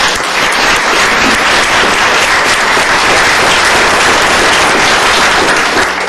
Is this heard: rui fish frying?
no